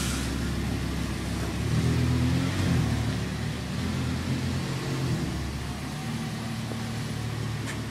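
An Audi car engine revs steadily on a cold winter day as a learner driver handles it, a continuous low rumble that swells and eases slightly, close and fairly loud throughout.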